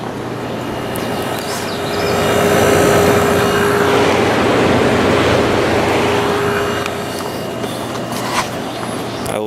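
A Kenmore (Gibson) 8,000 BTU air conditioner with a reciprocating compressor runs in a loud, continuous airy roar over a low hum, swelling slightly and then holding steady.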